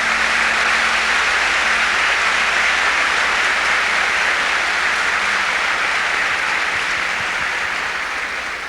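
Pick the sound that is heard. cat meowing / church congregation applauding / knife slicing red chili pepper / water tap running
church congregation applauding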